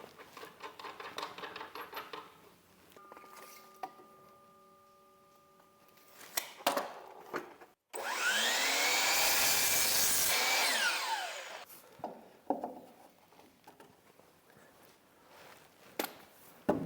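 A power saw cuts a 2-inch wooden spacer for a barn pocket gate: a loud, sustained whining cut of about four seconds, with scattered clunks and tool handling before and after.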